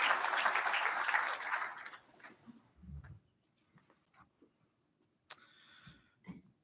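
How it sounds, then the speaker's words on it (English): An audience applauds at a Spirit of Courage award ceremony as Lou, a volunteer firefighter, is called to the podium. The clapping is dense for about two seconds, then fades to a quiet room with scattered small noises. "Please give him a round of applause"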